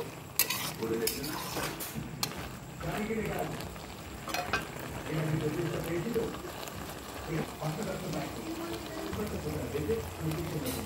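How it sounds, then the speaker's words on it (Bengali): A spatula stirs and scrapes potato and pea curry in a pan, with repeated metallic knocks and a soft sizzle while a person talks over it. "উপকরণগুলো দিয়ে ভালো করে খুন্তির সাহায্যে নাড়িয়ে নিচ্ছি যাতে লেগে না যায়"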